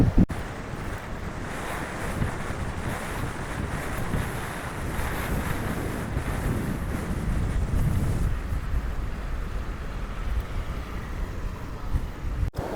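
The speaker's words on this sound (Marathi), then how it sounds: "समुद्राची गाज ऐकायला येत आहे" Sea waves roaring beside the shore at Mithmumbari under monsoon skies, a steady low rush of surf mixed with heavy wind buffeting, continuous and fairly loud, no voices.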